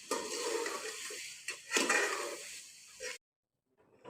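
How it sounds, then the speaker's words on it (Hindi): Chicken frying in a pan, a broad steady sizzle that fills most of the moment, with a couple of brief pan or utensil knocks before it cuts to silence. "हम चिकन फ्राई कर रहे हैं"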